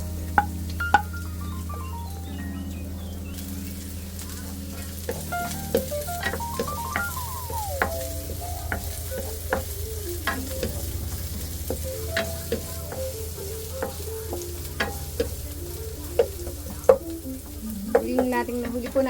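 Garlic and onion sauté in a hot pan for chicken tinola, with a steady close sizzle and frequent sharp scrapes and clinks from stirring, and no voices.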